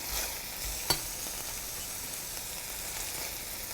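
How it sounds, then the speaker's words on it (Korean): Sauce spattering in an overly hot pan while making a myeongran (pollock roe) sauce, a soft continuous sizzle with one sharp pop near the start, no talking. "너무 뜨거울 때 하면 이렇게 많이 튀어요"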